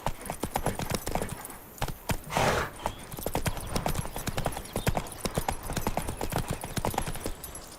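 Hooves of the horse Roach in The Witcher 3, a rapid, steady clip-clop with a brief whinny or snort partway through. It plays close and fairly loud, with a little speech faintly in the background.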